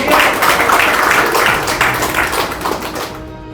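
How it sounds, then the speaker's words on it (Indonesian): A room full of people at an organization's assembly and inauguration ceremony in Banten, Indonesia claps in a dense, even burst of applause that fades away after a few seconds. "Tepuk tangan untuk kita semua."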